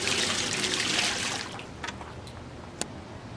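Warm RO water pours from a gallon bucket onto a block for rooting fig cuttings, a steady splashing trickle that tapers off, followed by a few faint drips and a small knock.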